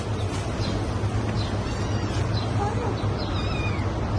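Little kittens meowing faintly in a few short, high calls, partly buried under a steady background hum while a person talks over them.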